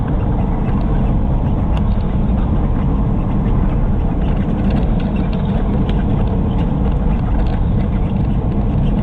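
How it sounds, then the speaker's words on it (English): A Kenworth W900 truck passing the other way on a Florida road, a loud, steady low engine rumble heard from inside a moving vehicle, without talk. "Nice W900 Kenworth there"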